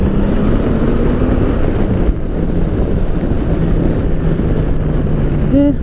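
A 2018 Honda Goldwing with an 1833cc engine under way, a loud steady engine drone heavily mixed with wind rush on the microphone and no break in the noise.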